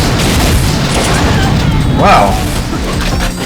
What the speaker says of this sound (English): you can just keep loading those rockets